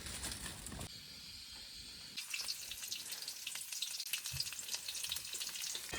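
Soup ingredients frying in a pot on a camping gas stove inside a tent, a constant close hissing sizzle with faint stirring, no talk.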